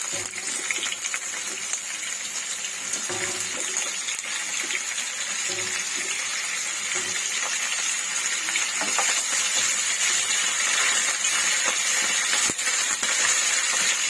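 Boiled cauliflower frying in a pan makes a steady, continuous hiss that runs close and loud throughout, with a few faint clinks breaking through now and then.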